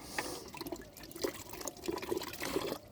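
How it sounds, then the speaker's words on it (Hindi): Very cold water in a village on a winter morning, running from a tap and splashing over hands: a steady close splashing stream with uneven spatters and drips, alone with no talking. "पानी हाथ में पड़ने के बाद तो लग ही नहीं रहा कि हाथ भी बाकी है।"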